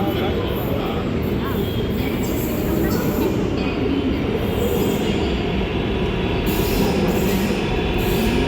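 A train pulls into a railway platform with a loud, continuous rumble of wheels and carriages, with faint squeals and bursts of high-pitched noise over it, while platform announcements and voices run underneath.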